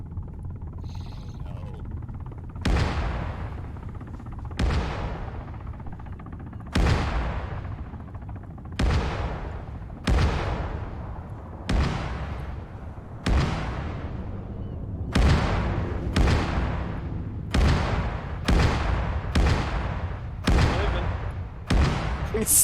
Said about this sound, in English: This is to simulate the airstrikes.